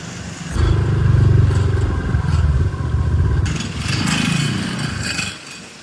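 A motorcycle ridden along a tree-lined road with some leaves and off-road stretches; its engine drones loud and close for about five seconds, rising and falling slightly with the throttle before fading at the end.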